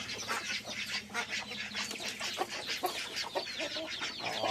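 Several chickens cluck busily and overlapping, close by, with agitated squawks and flurries as a rooster chases and pecks the hens.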